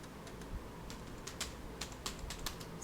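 Keys clatter on a computer keyboard in a series of quick, uneven taps with brief pauses, fairly close and moderately quiet, with no voices.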